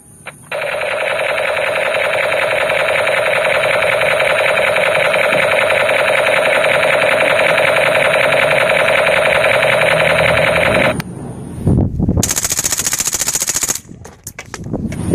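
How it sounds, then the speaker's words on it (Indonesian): Rapid video game gunfire, including AK-47 fire, rattles continuously and loudly for about ten seconds, then stops, followed by a short burst of different synthetic game sounds. "Ini tembakan Kapten Amerika."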